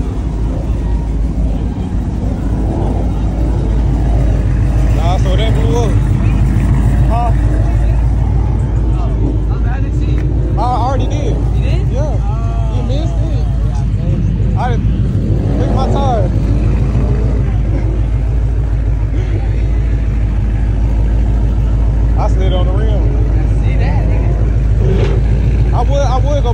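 A loud race car engine running rough in the pits at Atlanta Motor Speedway, idling and revving unevenly throughout, a steady rumble with wavering pitch, while people talk over it.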